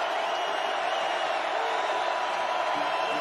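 A big crowd at a college football FCS semifinal between Montana and North Dakota State roars steadily, a dense, sustained cheer with no break.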